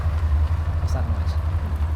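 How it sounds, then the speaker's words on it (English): An old car in the game Mon Bazou idles with a rumbling, pulsing engine drone. It runs continuously and loud in the foreground, with faint irregular rattles and knocks on top of it. "It's my car making weird noises."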